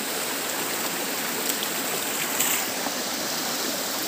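Steady broadband rush of water flowing in a stream at a river bathing spot, continuous and close, with no voices over it.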